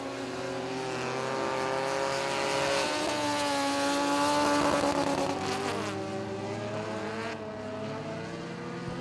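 Hot Shots feature race cars circle Magnolia Motor Speedway. A continuous engine roar swells as the cars pass close, with pitch sweeping up and down, then eases off as they move away, with no talking over it.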